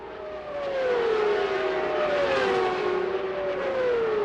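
CART open-wheel race cars screaming around Twin Ring Motegi in 1998, a loud sustained high-revving engine whine with pitch sweeping down and back up as cars pass, nearly continuous from start to finish.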